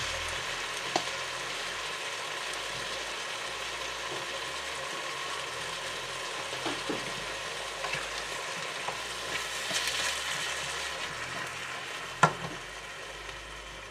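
Pinakbet vegetables fry in a pan with soy sauce, giving a steady, moderate sizzle with occasional stirring scrapes and one sharper clack near the end.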